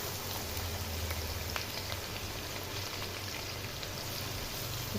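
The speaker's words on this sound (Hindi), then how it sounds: "कुकिंग ऑयल जो है हमारा गर्म हो चुका है। अब मैं इसके अंदर ऑनियन डालूंगी।" Onions added to hot cooking oil in a pan for aloo palak, a steady dense sizzle and crackle that stays even and moderately loud throughout.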